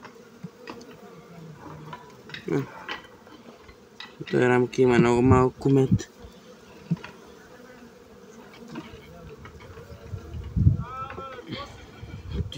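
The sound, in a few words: honey bees buzzing around a hive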